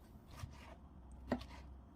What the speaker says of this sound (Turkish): Domateslerini de kabuğunu soyup iri iri doğrayacağım.